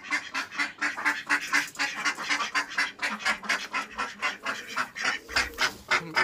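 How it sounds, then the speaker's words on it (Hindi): Ducks at a mini zoo quack and honk loudly in a rapid, continuous rhythmic chorus, close by and unbroken for several seconds. "डक्स ने पता नहीं क्यों शोर मचाया हुआ है"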